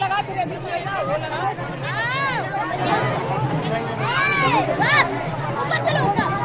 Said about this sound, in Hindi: यकीनन वहाँ बहुत ज्यादा भारी भीड़ है